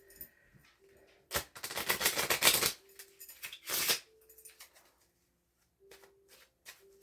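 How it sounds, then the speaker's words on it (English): Cards are shuffled in two quick riffling bursts, crisp fluttering rattles, with a few faint taps and chirps in an otherwise quiet room. "So I'm going to shuffle them up."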